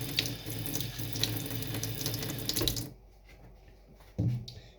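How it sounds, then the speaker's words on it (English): A kitchen tap runs hard over metal tongs for about three seconds, a loud close gush with faint clinks, then the flow cuts off, leaving a brief clatter. "I gotta wash that. The tongs."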